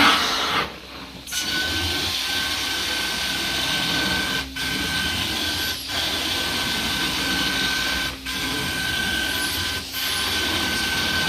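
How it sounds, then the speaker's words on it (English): A truck-mounted carpet cleaning machine runs with a loud, steady mechanical whine and hum, broken by several brief dips where the suction or wand stops. "So I'm running truck mount forms, Rob's Secret formula"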